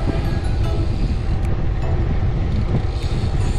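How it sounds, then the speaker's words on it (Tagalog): Strong wind buffeting a microphone while uphill biking on Bokor Mountain in Cambodia, a steady loud broadband roar and rumble with no pauses across the whole stretch. "Medyo malakas yung hangin pero malamig yung panahon."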